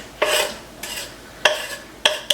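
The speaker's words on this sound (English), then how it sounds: "I'm going to go ahead and get this onion and garlic in my skillet." Onion and garlic go into olive oil in a skillet, giving a few short sizzling bursts up close, each fading quickly before the next, with brief scrapes as the pan is stirred.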